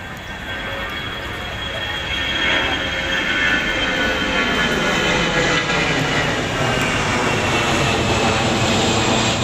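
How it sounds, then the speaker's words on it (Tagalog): A jet airplane roars overhead near the airport by Baclaran Church in the Philippines, a broad continuous rumble swelling slightly and holding loud throughout with no talk. "daming mga aeroplanong dumadaan"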